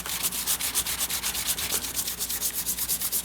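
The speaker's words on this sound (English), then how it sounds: "So let me get my materials together and we'll get to sanding." Hand-sanding the painted hull of a jon boat with fine-grit sandpaper gives a steady rhythmic rasp of quick back-and-forth strokes, close and continuous, with no voices.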